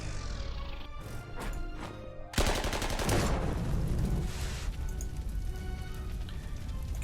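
A 15cm gun fires in Corps 2, a 1943 wartime strategy game, with rapid sharp cracks, then a loud blast and a sustained rumbling barrage that rolls on and slowly tapers.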